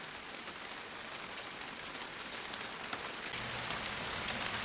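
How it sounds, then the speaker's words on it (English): Steady rain hisses down in a dense, even wash, with scattered drops pattering on a nearby surface, and no voices. "can you hear the rain pick up?"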